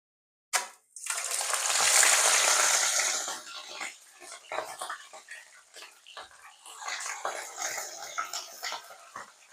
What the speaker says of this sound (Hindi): अब इसमें मैंने ऑयल डाला है और मैंने ये जो मेरे चिकन पीस है ना, इनको मैं हल्का हल्का फ्राई करूँगी